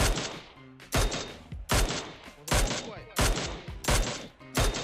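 Repeated gunfire bursts from the mobile battle-royale game PUBG Mobile, sharp reports at a steady rhythm roughly every three-quarters of a second, loud and punchy with echoing tails between shots, no talk heard.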